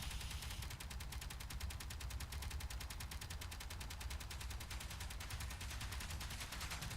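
Automatic gunfire in Space Engineers rattles in a fast, perfectly regular stream of shots for the whole stretch. It is quiet and distant-sounding, with no talk over it.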